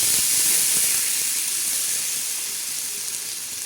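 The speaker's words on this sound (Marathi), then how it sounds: "आता हा तवा ठेवलेला आहे मसाल्याचा छ काळा मसाला भाजला ना तोच तवा आहे आता त्याच्यावर आपण पाणी सोडणार आहोत" Water poured onto a hot griddle that was used to roast black spice masala sends up a loud, steady hiss of steam and sizzle that holds throughout and fades slightly toward the end.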